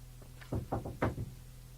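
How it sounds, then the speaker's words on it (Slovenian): Something pounds on a door at night, a quick cluster of four or five dull thuds, muffled and fairly faint over a low steady hum. "Ojoj, nekaj belega razbija po vratih."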